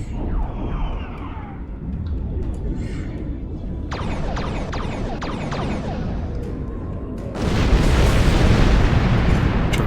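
A huge explosion destroys the large Iconian gate in Star Trek Online, set off by an orbital strike. A low, sustained broadband roar swells loud near the end, after a stretch of rumbling space-battle effects and short bursts.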